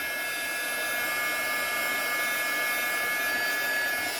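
A heat embossing gun blows a steady, loud hot-air whoosh with a faint high whine while melting embossing powder on a Christmas card, continuous and close for the whole stretch.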